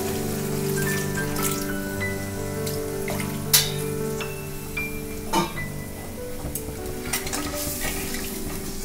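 Water splashed into a frying spice paste for fish kalia: continuous close sizzle and crackle with stirring scrapes and a couple of sharper clatters against the pan, no voices.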